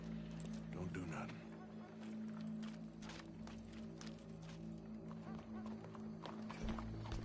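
Horse hooves in Red Dead Redemption 2 clatter in a steady clip-clop rhythm at moderate distance, set against a low constant hum, with talking voices over the hoofbeats.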